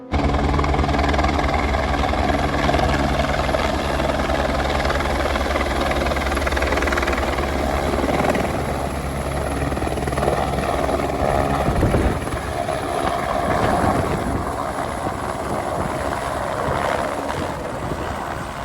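Helicopter at the Kedarnath helipad, a steady loud rotor thrum and turbine whine running continuously nearby, with a brief shift partway through as it carries on without any voices.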